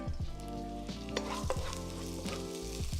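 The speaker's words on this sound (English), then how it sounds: "So now I'm gonna go add my sesame oil, my ginger," Sesame oil and ginger sizzle in a hot wok while a utensil stirs them, steady frying hiss under periodic scraping strokes against the metal, close and fairly quiet, with no voices.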